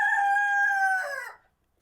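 A rooster in a hen coop crows once, loud and close, one drawn-out call that cuts off into silence.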